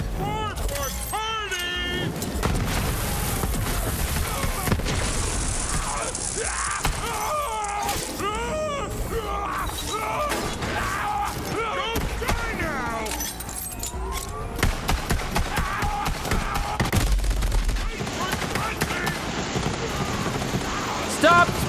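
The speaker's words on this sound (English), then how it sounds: "Stop spamming rockets!" Borderlands 3 combat with repeated rocket fire and explosions, bursts and crashes mixed with game noise and music, heard under frequent talking throughout.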